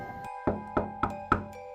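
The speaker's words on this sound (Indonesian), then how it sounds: "aku mengetuk pintu." Knocking on a door as a radio horror drama effect: four firm, evenly spaced knocks, close and clear, with a faint tonal music bed underneath.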